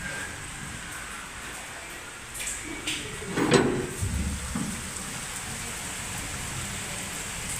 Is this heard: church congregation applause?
no